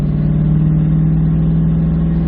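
A Toyota Tundra pickup with a 4.6L V8 and deleted muffler pulls uphill, its exhaust a loud, steady low drone with a strong rumbling tone that holds evenly with no talk over it.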